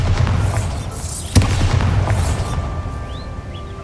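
A Bombarda spell explosion in the Hogwarts Legacy video game lands as a sharp booming blast partway through, over a loud, dense game soundscape with rumbling low end and whooshing effects.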